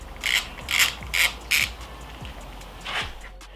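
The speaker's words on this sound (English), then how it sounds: "So we'll start out by taking this bumper off." Rubber bar end bumper being worked off a Yamaha MT-09 XSR motorcycle handlebar, several short scraping, ratcheting rubs in quick bursts, close and distinct, then a pause and one more rub.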